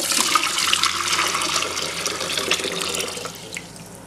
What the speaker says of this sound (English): Now we're gonna pour the mix that we just did with water, hot water, and vinegar